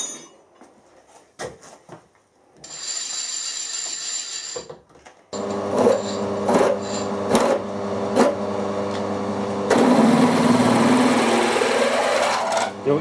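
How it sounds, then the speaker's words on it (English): Drill press boring holes through the base of a mill stand, its motor whining steadily with a faint belt hum and bursts of cutting noise, preceded by a few brief knocks and a short run of high mechanical whine. "We'll drill all in, we'll turn it over and drill another hole in that fits the taper up here."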